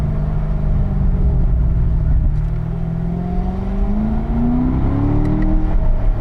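A car engine held in a lower gear drones loudly and close, its pitch climbing gradually as the revs build in one continuous pull, with no talk over it.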